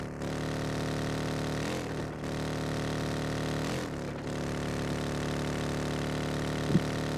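A scooter engine idles in the game PUBG, a steady buzzing drone with a few slight dips in pitch and a small click near the end, with no talking.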